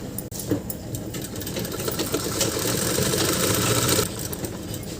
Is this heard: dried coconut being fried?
no